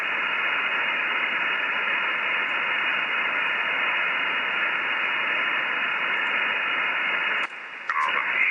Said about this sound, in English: Propagation on 10 meters now dropping into the noise.